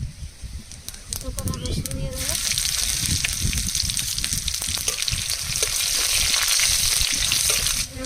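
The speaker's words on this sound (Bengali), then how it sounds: "তেলের মধ্যে দিয়ে দেবো একটু জিরা ফোড়ন" Cumin seeds hit hot mustard oil in a pan for telakucha greens, and after a quieter opening with soft clatter a loud, crackling sizzle bursts up and holds to the end.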